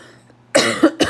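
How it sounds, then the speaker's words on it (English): A person with a lingering, rattling chest cough coughs twice in quick succession, harsh and close, after a brief quiet moment. "Sorry for coughing. I got this cough that won't go away, and it's just rattling my chest."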